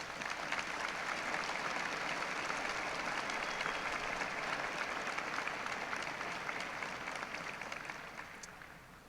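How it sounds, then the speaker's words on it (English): University of Iowa College of Liberal Arts & Sciences commencement audience applauding, a broad, sustained crowd clapping filling a large hall for several seconds before slowly tapering off. "Let's applaud all who have helped our graduates reach this milestone."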